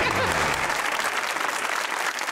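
Loud, dense applause from a comedy show audience fills the room, a brief continuous wash of clapping that tapers slightly at the end.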